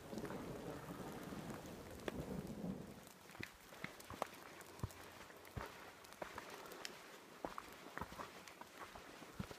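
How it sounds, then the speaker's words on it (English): Rain falls steadily during a hammock camping trip on Plateau Mountain, a soft continuous patter with scattered sharper drops striking nearby surfaces, heavier at first and then thinning out. "and it's raining."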